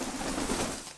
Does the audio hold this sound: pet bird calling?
yes